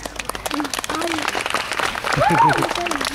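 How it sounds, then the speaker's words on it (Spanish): A group claps in applause for a young woman who has just read her text aloud, steady clapping running throughout while voices talk and call out over it. "Damos un aplauso antes, gente."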